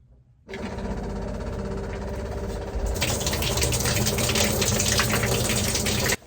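Water rushes through a newly installed hot water pipe in a small off-grid sailboat home, a loud constant gushing hiss that starts abruptly, grows brighter and harsher midway, then cuts off at the end.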